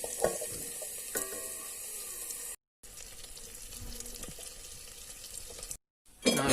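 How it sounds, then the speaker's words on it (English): Curry leaves crackle and hiss in hot oil or ghee, a soft steady sizzle with a few sharp pops, briefly cut by two short gaps of silence and a louder burst at the very end. "When the butter or oil ready, you just add some curry leaves first."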